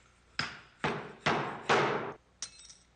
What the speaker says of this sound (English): Use the fork seal installation tool to seat the bushing and seal in the slider.